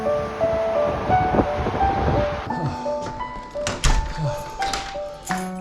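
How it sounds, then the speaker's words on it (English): Strong wind buffets the microphone while cycling on a cheap folding bike, with loud, continuous gusty roaring and rumbling through the whole stretch and a few bumps and knocks near the end. "Oh, that wind was brutal."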